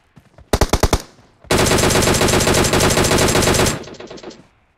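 Close, loud automatic gunfire from a PUBG match: a short burst of about six shots, a brief pause, then a long sustained rapid-fire stream that cuts off and trails into fainter echoing shots.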